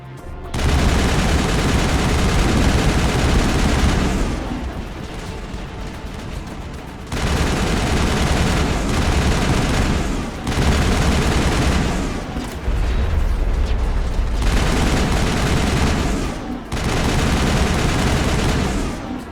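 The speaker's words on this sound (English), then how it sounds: "There must be a way to shut that gun down." Sustained heavy gunfire from a weapon in the sci-fi game Mass Effect, loud dense bursts lasting several seconds each, separated by brief lulls, with no voices over it.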